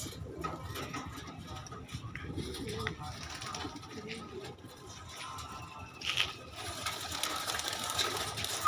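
Pigeons on a pigeon farm coo softly in the background, their low murmuring mixed with faint rustling and mechanical clicks throughout.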